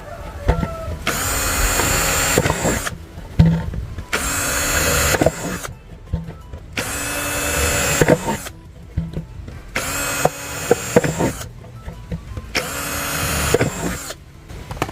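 An electric drill whirs in repeated bursts of a few seconds each, separated by short pauses, close and fairly loud.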